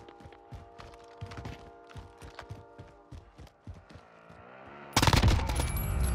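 Rapid bursts of AN-94 rifle fire in the Call of Duty Warzone video game, close and loud in quick repeated volleys over game sounds, ending in a louder dense blast.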